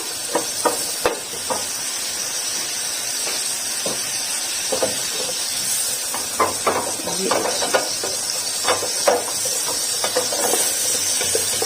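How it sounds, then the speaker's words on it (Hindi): Cumin seeds frying in butter in a pan for dal tadka, a steady bright sizzle and hiss broken by occasional spoon scrapes and clinks against the vessel. "जीरा डाल दूंगी। अच्छे से इसको फ्राई कर लेंगे।"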